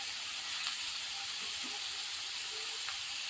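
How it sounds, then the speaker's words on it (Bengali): Onions frying in a pan for an egg curry, lightly browned, give a soft, steady sizzle and hiss that stays even throughout, fairly quiet, with no talk. "পেঁয়াজটা হালকা হালকা ভাজা হয়েছে।"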